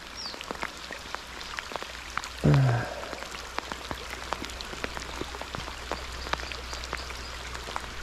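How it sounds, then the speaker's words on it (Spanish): Heavy rain pours down steadily on a trout-fishing riverbank, dense patter with distinct drops hitting close surfaces and one brief louder thump partway through, no voices. "Va todo el rato lloviendo a todo llover."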